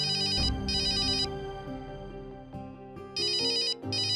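A mobile phone ringtone rings loudly in repeated bright melodic bursts, pausing between phrases, with background music continuing underneath and no speech during the ringing.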